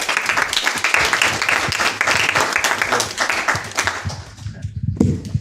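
A hackathon audience gives a round of dense, energetic clapping for a team after its demo, which thins out and stops near the end.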